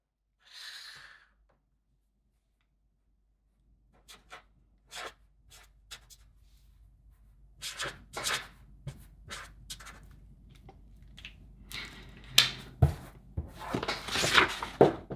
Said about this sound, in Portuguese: Vou desenhar aqui embaixo.